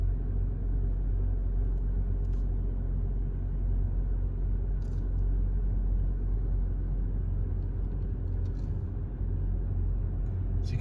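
Car driving through Andersonville National Cemetery, a steady low engine and road rumble throughout with a few faint clicks, no voices.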